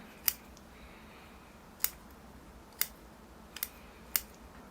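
Sharp pruning shears snip young maple bonsai roots during root pruning, five crisp isolated clicks spaced about a second apart over a quiet background with no talk.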